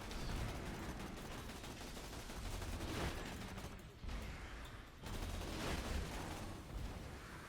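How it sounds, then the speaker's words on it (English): Dense, continuous gunfire from Borderlands 2 fills the clip, with rapid bursts of automatic shots running almost without pause and only a brief dip near the middle. "I will bounce chain reaction bullets off of them."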